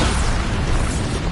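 A Bombarda blasting spell explodes in the video game Hogwarts Legacy, giving a loud, dense, continuous roar of burst noise across the whole moment, with no voices.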